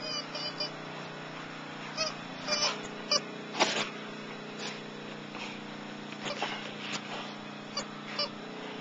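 A duck held in a Rottweiler's mouth gives repeated honking cries in short bursts, moderately close, over a steady low background hum.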